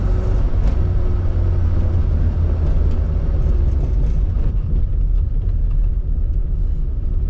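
A 1981 Mini 1000 being driven, its engine a loud, steady low rumble and drone inside the small car, with road noise and a few faint clicks over it.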